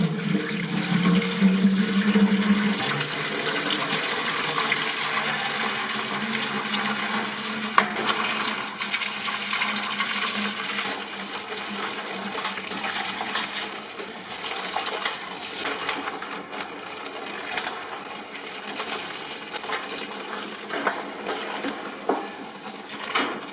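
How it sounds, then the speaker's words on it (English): Air conditioner parts are being washed in soapy water in a sink, giving steady close-up splashing and running-water noise with scattered clinks, continuous for over twenty seconds and with no talking. "put some soapy water in the sink and give them a wash."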